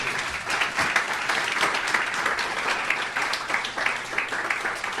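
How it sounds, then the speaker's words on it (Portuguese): Church congregation at a communion worship service clapping in praise; loud, close, continuous applause holding steady across five seconds without speech. "Dê um aplauso a Jesus."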